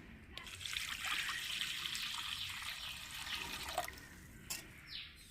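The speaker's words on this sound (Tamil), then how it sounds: "தேவையான தண்ணி சேர்த்துக்குருவாங்க" Water pours and trickles steadily into a cooking pot of catfish curry for several seconds, a soft splashing flow with a few small clinks near the end.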